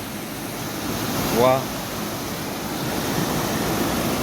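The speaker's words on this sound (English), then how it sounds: "You can see this is actually a lot of water that has been dropping for the past few days. Look at how heavy it is." Heavy floodwater rushes at a bridge beside a highway in Nairobi, a broad continuous roar like surf that holds steady throughout, with one brief spoken exclamation partway through.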